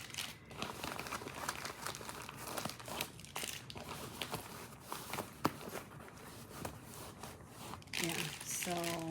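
Packets of flushable wipes crinkling as they are pulled from the outside zipper pocket of a travel toiletries bag, a busy, close run of rustles and crackles, with a brief sharper zip-like rasp near the end.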